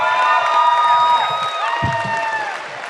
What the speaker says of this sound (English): Another round of applause for April Elridge.